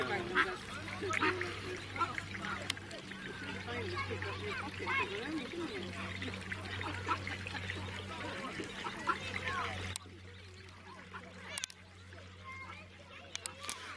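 Ducks quacking and honking at Portishead Lake, outdoors by the water, with low droning tones and scattered calls blending into a busy ambient wash that drops quieter near the end; people talk nearby.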